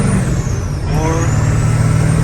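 Truck engine droning loud and close, revs dipping briefly then climbing again through a clutchless gear change into fifth.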